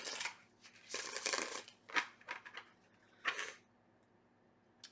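Tarot cards are shuffled by hand in a quiet room, several short bursts of crisp riffling and flicking separated by pauses, close and soft.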